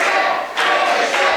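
Wrestling crowd roaring and cheering in support during a match, a loud, dense wash of voices that dips briefly and surges back in two swells.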